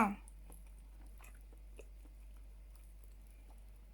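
Soft, close chewing of chewy homemade fish balls, faint and steady after a brief louder onset, with quiet mouth sounds and no clear talk.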